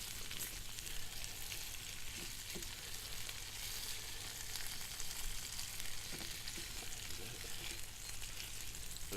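Bacon sizzles steadily in a small Mini Trangia camping pan, a constant close crackling hiss with a few faint clinks and no talk.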